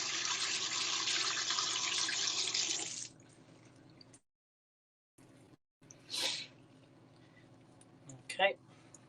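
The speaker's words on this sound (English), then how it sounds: "And we just wash these salad leaves" Salad leaves rinsed under a running kitchen tap, a loud steady gush of water for about three seconds, then quiet handling with brief splashes and rustles; speech occurs nearby.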